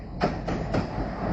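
The Sagardari Express, running from Khulna to Rajshahi behind a diesel locomotive, rolls into Mobarakganj railway station with three quick rhythmic wheel clacks over a steady low rumble.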